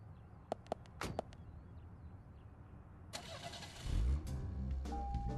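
A car engine starting in the video game Deadly Premonition, heard after a few faint clicks and a brief mechanical rattle: the engine cranks and catches with a low surge, then settles into a steady idle.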